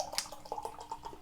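Dogma Brewery Smash Sabro session IPA pours from a can into a glass, a soft, close, trickling splash with small irregular drips and gurgles, quiet and brief with no talking.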